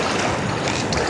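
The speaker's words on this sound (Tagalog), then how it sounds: "Laking alon na yun." Rough open-sea wash of big waves around a small fishing boat, a steady broadband roar of water and wind buffeting, loud and close throughout with no talk.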